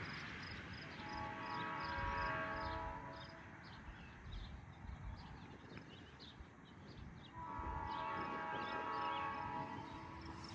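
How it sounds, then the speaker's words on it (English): A train on the Hamilton Northwestern Railroad rumbles steadily past on the tracks, with its horn sounding in two long blasts, one early and one later, over a continuous low roar. "Here's a train right now."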